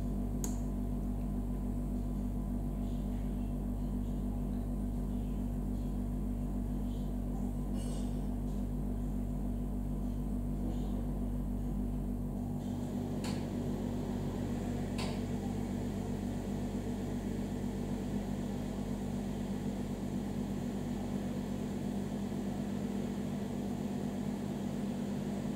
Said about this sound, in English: Someone's using the blender